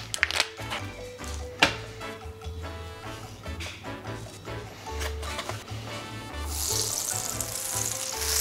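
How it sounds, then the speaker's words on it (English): Creamy Icelandic butter sizzling and crackling in a hot pan, a soft, fairly quiet frying hiss with scattered pops. A faint low hum runs underneath, and the hiss grows brighter near the end. "Now I'm gonna heat up the pan. Of course, put a lot of creamy Icelandic butter."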